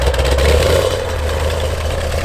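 The engine of a 1972 Dodge Challenger Rallye idles close by with a steady, loud, low rumble and a slight uneven lope, running alone with no talk.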